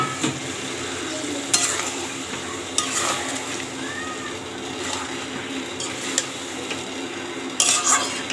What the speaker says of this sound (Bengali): মাংসটা আমি দিয়ে একটু ভালো করে কষিয়ে নেবো